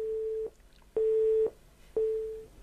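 Telephone busy signal on a radio call-in line after a caller hangs up: three loud, steady, identical tones, each about half a second long, separated by equal gaps and heard alone without any talk.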